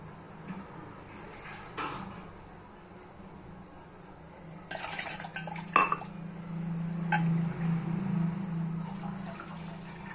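Water is poured into a pot of sambar in a home kitchen, with metal pot clinks and scraping, then a steady, moderate pour building toward the end.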